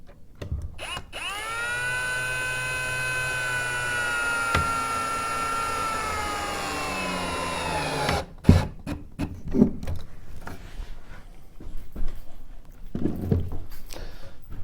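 A power driver sinks a 2-inch screw into a wooden rocker, one sustained whine for several seconds, close and loud. Clunks and handling noises follow as the piece is moved.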